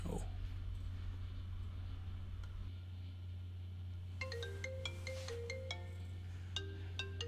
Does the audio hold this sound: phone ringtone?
yes